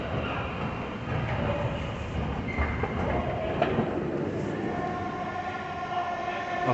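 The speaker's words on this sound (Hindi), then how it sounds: "Okay, so we have entered the metro station." Steady indoor station hum with a low rumble of rail traffic, faint distant voices and occasional tonal beeps echoing through a large space.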